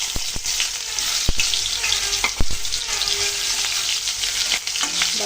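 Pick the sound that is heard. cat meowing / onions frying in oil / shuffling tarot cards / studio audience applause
onions frying in oil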